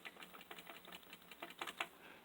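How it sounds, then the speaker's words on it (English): Keys clacking on an old Commodore 64 keyboard recovered from an attic after some 20 years, a quick irregular run of close, crisp key presses with no voices. "I like the fact the keyboard still works."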